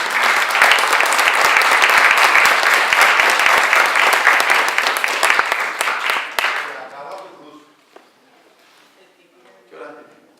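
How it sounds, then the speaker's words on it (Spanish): Applause from a church congregation during a Spanish-language service: loud, dense clapping for about six seconds that cuts off abruptly, followed by quieter room sound and brief speech. "¿Cuánto pueden dar un aplauso al Señor?"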